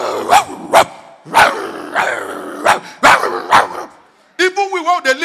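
A dog barks repeatedly in short, loud bursts with growling between them, brought into a compound and misbehaving, the barks close and irregular, ending in a higher whining yelp sequence.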